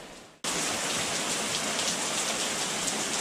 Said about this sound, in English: There's a sudden rainstorm came